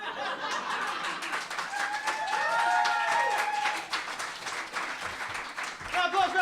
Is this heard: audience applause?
yes